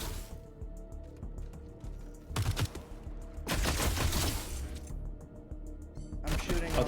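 Video game gunfire coming in several dense bursts of rapid shots separated by quieter stretches, with some bursts lasting over a second, all at moderate loudness.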